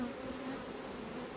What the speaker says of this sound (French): La hausse, bah, elle est quasiment pleine, c'est plein d'abeilles.